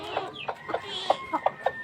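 A chicken clucks close by in a quick, uneven series of short, nasal calls, several in under two seconds, with faint background noise and no clear talking.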